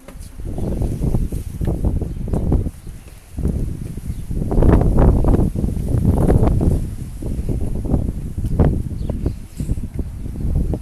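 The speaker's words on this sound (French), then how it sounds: "c'est très joli avec le vent" Wind blows outdoors by a chapel, buffeting steadily and loudly with gusty swells across the whole stretch.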